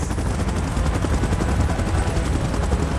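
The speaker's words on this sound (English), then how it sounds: "Chopper in position." A helicopter in a Kong & Godzilla video game, a dense loud rapid rotor chop over rumble, continuous and close with no talk.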